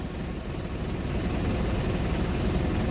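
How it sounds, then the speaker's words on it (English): A 2013 Mercedes Benz Vario 0.816d Plaxton Cheetah coach with a Euro 5 Mercedes diesel engine and 6-speed manual gearbox runs steadily, a loud, continuous low rumble heard alone. "Euro 5 Mercedes engine driven through a 6-speed manual gearbox."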